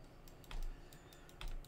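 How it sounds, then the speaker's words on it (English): Computer keyboard keys pressed in a few quick clicks, with two louder thumping presses close by, over a faint steady background hum. "I'm gonna hit 1 on my keyboard right there."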